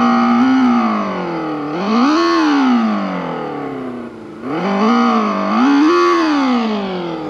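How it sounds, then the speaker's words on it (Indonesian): Synthetic engine sound from a United T1800 electric motorcycle, 2020 model, swelling and falling in two loud revving waves like a combustion bike, a distorted buzzy tone rising with each throttle blip then dropping back to idle. "Dia ada suaranya seperti motor sungguhan ya."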